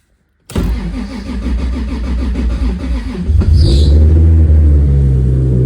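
A 1251 bhp MKIV Toyota Supra engine with fuel pressure issues cranks briefly, then catches and roars into a loud, steady idle, close by.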